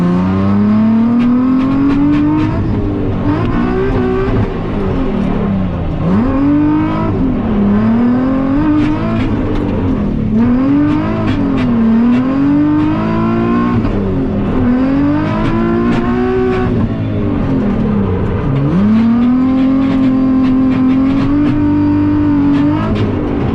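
Nissan 370Z exhaust at a drifting event, revving hard and continuously, its pitch swooping up and down as the engine is worked; loud and close, with no speech.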